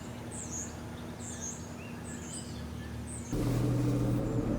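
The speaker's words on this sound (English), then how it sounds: "Listen to the birds." Birds chirp and sing in the distance over a steady outdoor hum in Tulbagh, South Africa, with a louder rumble joining near the end.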